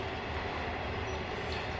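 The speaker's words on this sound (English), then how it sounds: "there's a train that goes by just a few times" A train rolls past near woods in Denmark, a low steady rumble with faint wheel noise at a moderate distance, heard alone.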